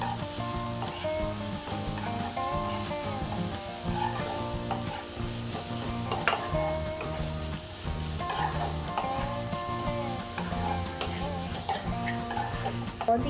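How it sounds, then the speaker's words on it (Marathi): Spiced masala of garam masala, byadgi chilli powder and Malvani masala with fresh coriander is stirred and sautéed in a pan for chicken keema, a steady close sizzle under continuous scraping strokes, with no talk. "आणि हे चांगलं परतून घेऊया."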